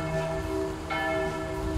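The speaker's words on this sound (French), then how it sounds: "Plus t'as le bruit des cloches." Church bells ring out at Évreux cathedral, a sustained wash of overlapping metallic tones with a fresh strike partway through, loud and reverberant, with no voices.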